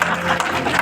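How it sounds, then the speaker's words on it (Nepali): Birthday celebration applause, a dense steady patter of many hands clapping together at close range for the whole moment, with no voices standing out above it. "हुन्छ, हामी ताली बजाउनेछौँ यो समय।"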